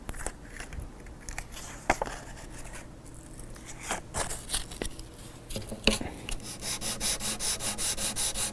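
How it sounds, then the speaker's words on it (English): Steady hand sanding of a guitar finish with 800-grit paper on a small, very hard Corian block, close rhythmic rubbing strokes that grow more regular toward the end, with no voices. "take some 800 grit, and this time I'm going to use a small, very hard Corian block."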